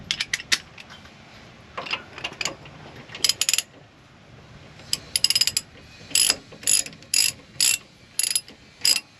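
Ratchet wrench tightening the shock absorber bolts on a Ram Promaster van: short bursts of rapid clicking, close and crisp, start irregular and settle into an even run of about six evenly spaced bursts near the end, with no talk.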